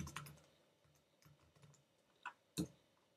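Text being typed on a computer keyboard: soft, irregular key taps through most of the stretch, ending in two louder, sharper keystrokes close to the mic.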